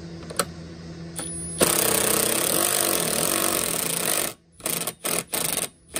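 A loud power nut driver whirs steadily for a few seconds, then runs in short bursts with brief gaps, close by, driving lag screws while installing truck camper stairs.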